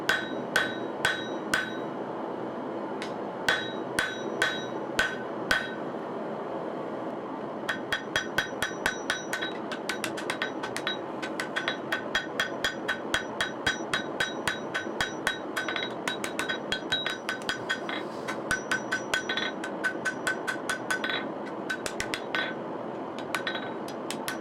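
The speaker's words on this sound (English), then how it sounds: "Now I'll continue forging the bevel further up the blade." Steel hammer blows ring out as a Japanese kitchen knife's bevel is forged, sharp metallic strikes falling in quick uneven bursts and steady runs, close and bright, with no talking.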